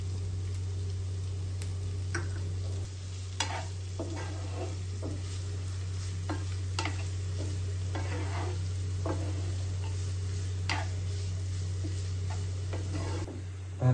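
Chopped onion fries with garlic in a pan, giving a steady low sizzle under repeated scrapes and taps of a stirring spoon, fairly close and even throughout.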